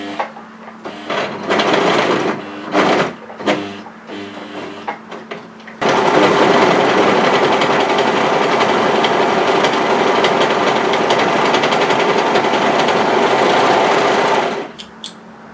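A sewing machine stitches through bulky sweatshirt layers, first in several short bursts with pauses, then in one long steady run of loud whirring, stopping just before the end.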